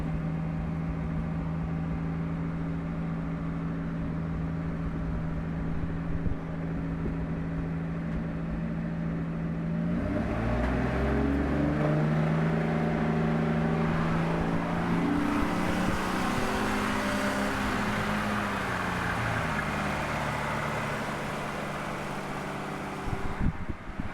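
A 1949 Studebaker car engine idles steadily up close, its low hum rising to a rougher, louder run partway through, then settling again with no talk.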